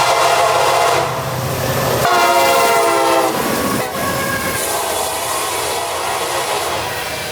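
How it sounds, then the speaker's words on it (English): A CSX unit coal train, CO40, bound for the OUC power plant at Stanton Energy Center, rolls past loudly with a rumbling consist and a long, sustained multi-tone horn blast, then continues grinding by. "CO40 breaks the silence with a trainload of coal for the OUC power plant at Stanton Energy Center"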